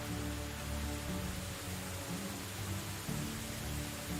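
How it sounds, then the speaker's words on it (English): Steady rain falls in the video game Medieval Dynasty, a dense continuous hiss with a faint low hum beneath, even in level throughout and without voices. "it sounded almost like in game the rain got less hard"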